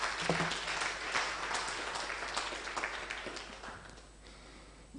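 Audience clapping at a Strathmore celebration event honoring a sisters' impact project; a dense, steady patter of many hands that stays fairly even, then thins slightly toward the end.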